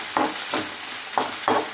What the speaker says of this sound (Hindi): हरी मिर्च डालने के बाद इसमें प्याज डाल देंगे